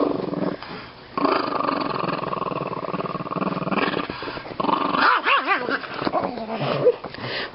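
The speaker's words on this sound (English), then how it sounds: "I got the Chihuahua here, and now it's annoying noise number 2" A small Chihuahua yaps and growls in excited bursts, close and fairly loud, with a few whiny yips mixed in.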